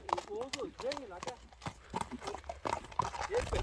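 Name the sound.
horse hooves clip-clopping while being ridden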